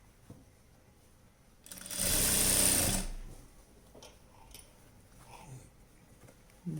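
Sewing machine stitching a night dress runs in one fast whirring burst of about a second, fairly close, then stops amid quiet handling noises.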